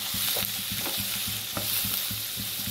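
Food sautéing in a pan over a gas stove for a simple breakfast, with steady sizzling and repeated stirring scrapes at an uneven rhythm, close and fairly loud.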